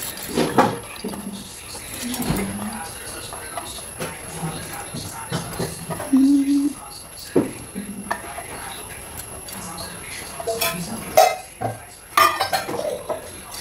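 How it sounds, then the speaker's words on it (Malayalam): Washed lentils tipped into a pressure cooker in a home kitchen, giving a string of metallic clinks and clatters from pot and utensils at close range, with a voice speaking softly in places. "നമുക്ക് കുക്കറിലേക്ക് പരിപ്പ് ഇടാം"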